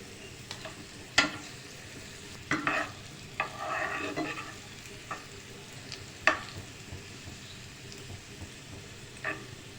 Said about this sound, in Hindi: सबसे पहले बटर में अनियन को हम जो है सिर्फ सॉफ्ट करेंगे, प्याज को फुल कुक नहीं करना